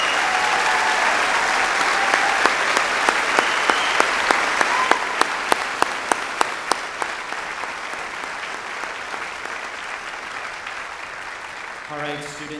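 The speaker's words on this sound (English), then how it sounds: "Let's give these 20 students a big round of applause." A high school graduation audience gives twenty students a sustained, even round of applause. Loud, sharp single claps stand out above the crowd for about ten seconds before it tails off, and a voice begins to speak at the end.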